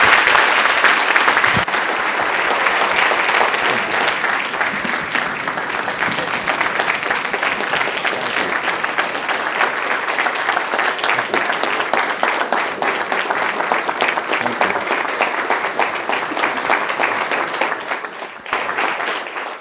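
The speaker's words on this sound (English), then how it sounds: "We are going to give a rousing round of applause." Sustained, loud audience applause fills a business-school ethics prize event at Columbia, dense and steady clapping from a large crowd lasting nearly twenty seconds before tapering slightly at the end.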